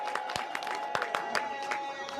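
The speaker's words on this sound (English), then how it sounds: "So let's clap for the women first" At a political gathering, an audience gives scattered clapping for the women, with irregular claps heard under a steady murmur of crowd noise and a tonal hum.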